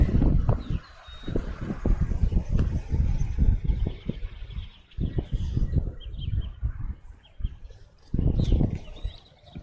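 Strong wind buffets an outdoor microphone at a bird research and tagging site, rumbling in loud gusts throughout, with faint bird chirps high in the background.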